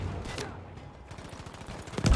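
Video-game gunfire from Battlefield V comes as a short burst of rapid shots in a multiplayer match. It is moderately loud with brief bursts, and there is no clear talk.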